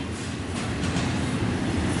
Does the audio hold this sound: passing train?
yes